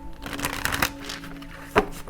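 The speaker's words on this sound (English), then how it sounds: "I'm gonna give it a quick shuffle." Soft, quick riffling and flicking of tarot cards shuffled by hand close up, a few light slaps, quiet with a faint hum underneath.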